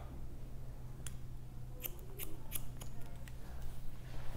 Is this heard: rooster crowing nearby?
no